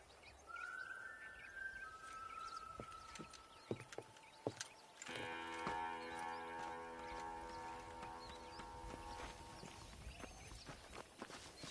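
Cattle in the video game Red Dead Redemption let out a long, drawn-out low moo midway, amid scattered hoof clops and footsteps on open ground.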